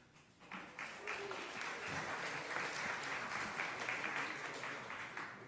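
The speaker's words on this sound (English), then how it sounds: "Don't be shy about applause." An audience at a Brooklyn Jewish Hall of Fame evening bursts into steady applause after a quiet start, the clapping dense and sustained, heard from a moderate distance.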